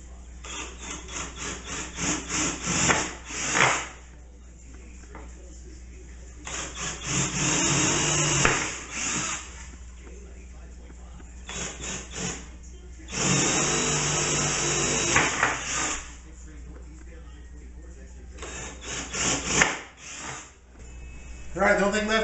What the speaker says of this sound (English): now we just need to drill the holes so we can mount it